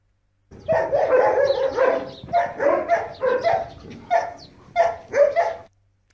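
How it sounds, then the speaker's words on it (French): A dog barks and yips in a rapid series of close, loud bursts, with short pauses between groups of barks. "Un chien."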